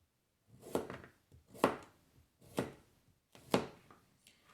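Four crisp, crunchy knife cuts through broccoli, evenly spaced about a second apart, close up with no talking.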